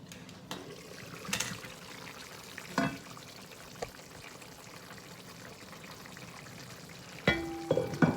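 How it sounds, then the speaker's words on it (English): Okra added to a pot of Nigerian stew simmers quietly with a soft, steady bubbling hiss, broken by a few light clinks and knocks of a utensil against the pot. "We give it 5 minutes and let it simmer, and we put the okra in."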